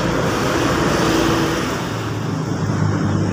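A truck rolls through a road underpass with a heavy, close engine rumble and a low droning tone over continuous traffic noise, easing off slightly toward the end.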